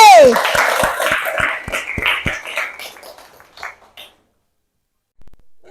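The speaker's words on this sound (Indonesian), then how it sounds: "Silakan kasih tepuk tangan untuk kelompok C." Pupils in a classroom clap for a group, a series of sharp, evenly spaced hand claps at first with a voice over them, thinning into scattered claps before falling quiet.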